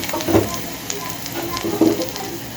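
Water poured into a pan of softened onions for a fish curry sets off a loud, bubbling sizzle that surges twice and settles between bursts.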